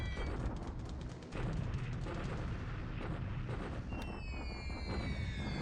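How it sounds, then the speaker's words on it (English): Bombing of ground troops in the strategy game War in the Pacific: a continuous roar of rumbling blasts and artillery-like booms, loud and dense, with a falling whistling tone entering near the end. "And we're bombing the ground troops here."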